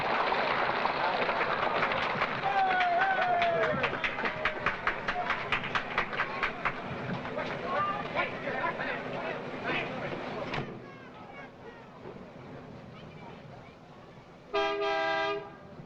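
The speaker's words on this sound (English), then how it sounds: "The train is moving now into place for loading" Rumbling 1959 Disneyland monorail train machinery with rhythmic clicking and hiss as it moves into place for loading, followed by a quieter lull and a short horn toot near the end.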